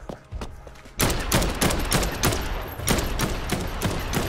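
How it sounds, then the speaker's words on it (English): Shots from a single-fire rifle in the video game Dead Island 2, loud, close and spaced under a second apart, beginning abruptly after a quieter first second. "It's a single fire rifle"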